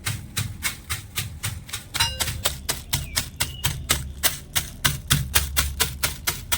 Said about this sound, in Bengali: আর ওপর দিয়ে এরকম একটা নড়া দিয়ে হালকা করে একটু আধা ভাঙা করে নেবো বাদামগুলো